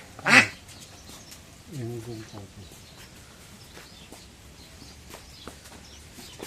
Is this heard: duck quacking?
yes